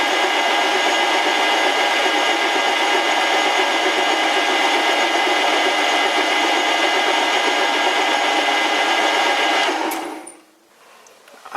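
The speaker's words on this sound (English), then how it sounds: "I've decided to drill these 12 millimeters" A 12 mm hole being drilled for a vintage lathe's quick release tailstock handle: a steady, loud whirring drone with constant cutting noise that runs unbroken for about ten seconds, then cuts off abruptly and winds down to near silence.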